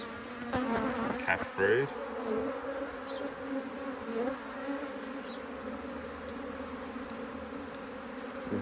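Agitated honey bees buzz steadily around a hive during a beekeeper's inspection of brood frames, a dense close drone with a few louder passes near the start and brief speech.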